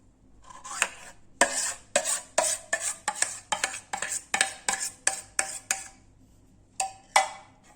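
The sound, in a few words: cake batter being put into the mold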